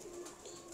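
Pigeons from a fancier's loft coo softly in a low, steady drone that holds for under a second, faint and without any voices.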